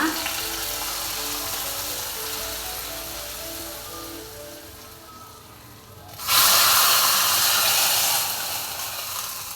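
Chicken pieces frying in a pan for a Kundapura-style country chicken curry, a steady crackling sizzle that goes quiet midway, then a sudden louder hissing burst, like something added to the hot pan.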